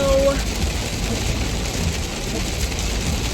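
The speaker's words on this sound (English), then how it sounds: "it is pouring raining outside" Steady heavy rain hisses close by, a dense constant wash of noise with no pauses.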